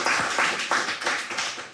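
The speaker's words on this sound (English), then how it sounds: "that deserves a round of applause." A few people clap in a studio kitchen on a Christmas morning cooking show, a short run of distinct, close claps in a loose rhythm.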